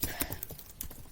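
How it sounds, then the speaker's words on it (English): Computer keyboard keys are tapped in a quick, uneven run of soft clicks, close up, with nothing else heard over them. "So let's go ahead and type"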